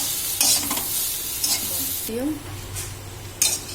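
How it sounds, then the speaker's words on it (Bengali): Egg chow mein with turmeric being stir-fried in a pan: a steady close sizzle runs throughout, broken by several distinct scraping stir strokes of the utensil against the pan. "এবারে আমি নেড়ে চেড়ে চাউমিনটা ভাজব"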